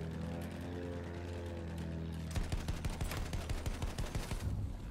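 Rapid bursts of gunfire in Battlefield 1 rattle out in a steady run of loud, close shots, following a sustained engine-like drone.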